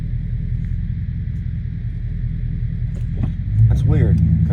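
A 6.4-litre SRT8 V8 idles with a suspected lifter or exhaust-leak tick: a steady, close, deep rumble with fine repetitive pulsing, swelling louder as the revs rise near the end.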